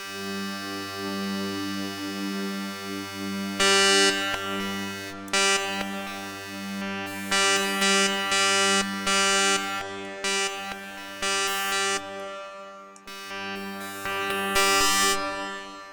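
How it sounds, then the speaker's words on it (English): A WaveStepFX wavetable synth instrument for MXXX holds a sustained note whose bright upper layers step and jump in a choppy, rhythmic pattern over a steady low drone, with no voices. "you play a key and you can change how the wavetable jumps around the sustain of the note."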